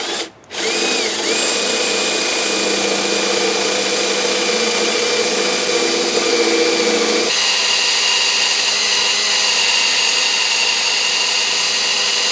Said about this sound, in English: And let's drill our other piston here.